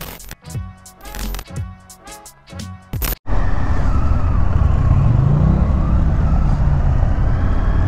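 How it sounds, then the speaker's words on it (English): Indian FTR1200 motorcycle on the road, loud and close: uneven rumble with a few throttle pulses, then a steady roaring wind-blasted ride as it gets under way. "I'm here doing a demo ride on the Indian FTR1200"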